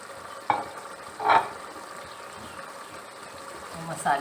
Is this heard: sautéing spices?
yes